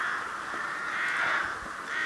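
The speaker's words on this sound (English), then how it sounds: "Lovely sound of the rooks, isn't that?" Rooks caw continuously from a distance, their harsh overlapping calls forming a steady chorus.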